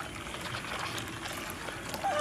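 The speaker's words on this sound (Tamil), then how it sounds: "இப்போ இதை வந்து தண்ணியை ஊற்றி நம்மளுக்கு தேவையான அளவு ரசமாக பண்ணிக்கலாம்" Water pours steadily into pani puri rasam in a kitchen, a soft continuous splashing stream with faint clinks from the vessel.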